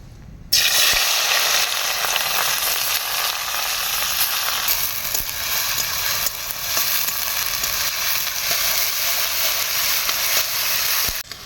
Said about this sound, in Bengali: ফোড়নে দেবো জিরে, গ্রেট করা রাখা পেঁয়াজ